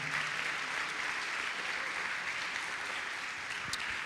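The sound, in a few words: audience applauding in church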